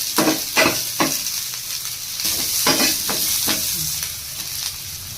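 Chillies and seasoning fried in a pan for barley bisibele bath, a loud close sizzle with repeated quick spatula strokes and scrapes against the pan, some bunched together, without speech.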